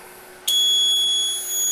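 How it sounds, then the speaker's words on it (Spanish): Acoustic alarm buzzer on a workshop dummy load test rig, switching on abruptly as a loud, steady high-pitched electronic tone that holds continuously with a brief dip near the end. "vamos a activar la alarma"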